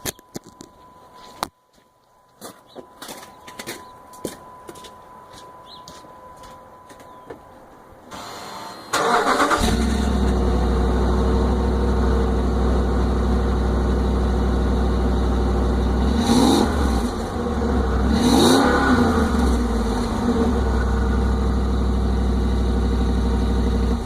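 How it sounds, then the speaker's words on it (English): A 2007 Ram pickup truck engine starts after some clicks and handling noise, then settles into a loud, steady rumbling exhaust idle with a couple of brief revs. "So that's what the exhaust sounds like."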